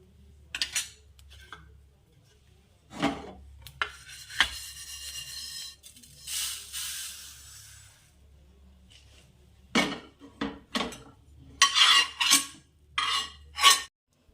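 Roasted sesame seeds scraped from a pan with a utensil, a few short scratchy strokes with gaps between, then a denser run of brisk scraping toward the end.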